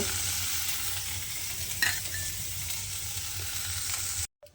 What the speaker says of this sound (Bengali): আমি কিন্তু খুব ভালোভাবে সয়াবিনটাও ভেজে নেব